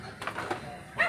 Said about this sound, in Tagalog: Ingay ng aso, mabok.